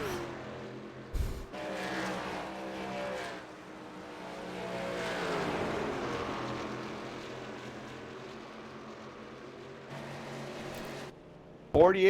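Racing trucks circle the Indianapolis track, their engine drone swelling and fading at a distance for several seconds while a commentator talks over it.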